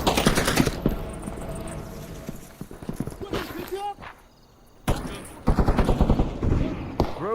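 Rapid bursts of video game gunfire crackle close and loud in repeated volleys, with a pause midway, while voices call out over the action.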